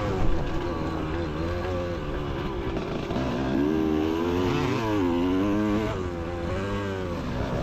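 A dirt bike engine revs and drones continuously on a motocross track, its pitch rising and falling as the throttle opens and eases, fairly close and loud.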